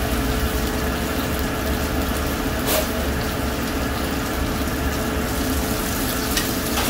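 Mushrooms fry in a pan on half flame with a steady, dense sizzle and bubbling that stays loud and even throughout.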